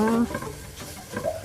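Grated beetroot and rice stirred in a hot, sizzling pan, giving a soft, continuous scraping and frying hiss with brief tonal sounds at the start.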